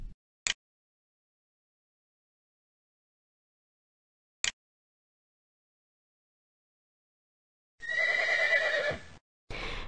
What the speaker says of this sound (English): The horse neighs.